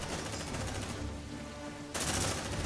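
Rapid gunfire from a squad of marines in the video game Aliens: Dark Descent. Dense, loud bursts of automatic fire keep going without pause, with a brief dip in intensity before a heavier volley resumes.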